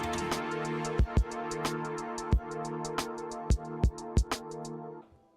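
A punchy electronic beat where each bass drum kick triggers sidechain compression, making the sustained instruments duck and swell back, giving a pumping rhythm; no voices.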